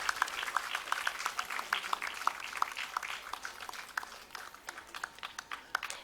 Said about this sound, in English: let's have a huge round of applause for their dedication to RINL